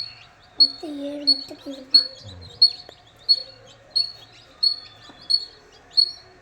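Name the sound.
chirping of young Siruvidai chicks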